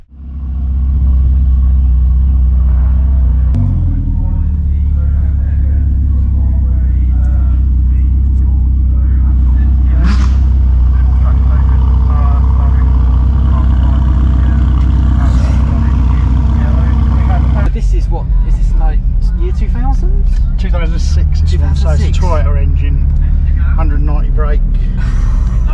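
A loud, screaming mid-engine race car engine rumbles continuously at close range at a speed hill climb, its deep drone dominating throughout while people talk over it.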